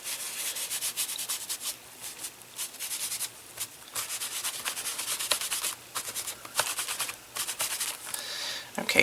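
Paint is wiped and rubbed across a journal page in steady, close scrubbing strokes with brief pauses, continuing without any voice.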